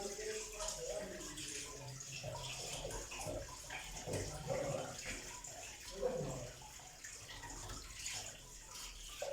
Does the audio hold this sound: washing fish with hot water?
yes